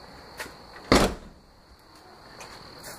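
An early-VIN carbureted DeLorean door with worn outer seals swings shut in one solid thump with a short rattle, close by, followed by quiet ambient hum and faint insect chirps.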